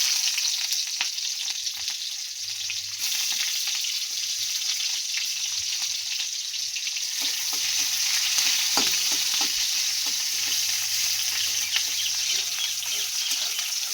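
Onions frying in hot oil with dried chillies: a loud, dense, continuous sizzle that swells after a few seconds, with faint stirring ticks and a low hum underneath.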